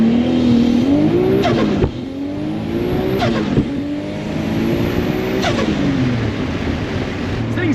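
A Honda CRX launches hard, its engine revving loudly and climbing through gears with sharp shift breaks about every one and a half seconds, a close, sustained buzzing drone heard from inside the car.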